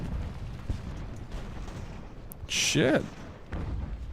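Mortar artillery in the video game Ultimate General: American Revolution, deep muffled thuds booming at a distance with one sharper blast midway, while a player talks and swears over the rumbling battle.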